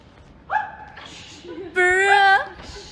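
Small dog giving a short whimpering yip followed by a longer, louder tonal bark-whine, close and alone.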